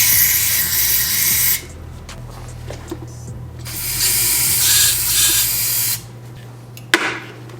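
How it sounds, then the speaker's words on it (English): Cleaner sprayed into the idle air control valve of an RB25DET engine: several loud hissing aerosol bursts of varying length, close up, separated by short pauses with faint handling noises. "I'm gonna spray in there, try and get it clean."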